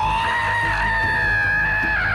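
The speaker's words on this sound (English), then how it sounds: "this guy who just screams at you" An orc captain in the Shadow of War video game lets out a loud, sustained raw scream that holds at one strained pitch for about two seconds, alone and close.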